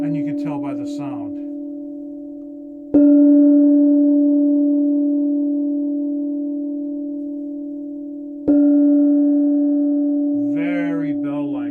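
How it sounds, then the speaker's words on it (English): A gong is struck twice, each hit ringing out in a long, pure, slowly fading hum, with brief speech just before and after. "Very bell-like, very beautiful bell sound."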